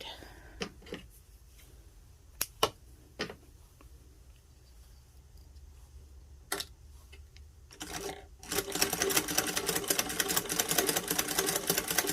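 A 1920s Stitchwell cast iron child's sewing machine starts with scattered clicks and sparse taps, then settles into a fast, steady, louder stitching clatter near the end, close by.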